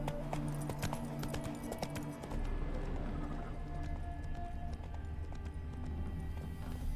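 A horse gallops with steady, rapid clip-clop hoofbeats in The Witcher 3: Wild Hunt – Blood and Wine, close and continuous over low ambient game sound for the whole stretch.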